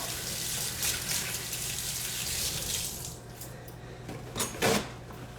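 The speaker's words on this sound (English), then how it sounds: "I'm going to rinse my hands off because they are covered in oil." Tap water runs steadily into a kitchen sink as oily hands are rinsed, a continuous close hiss that cuts off partway, followed by a few brief splashes and drips.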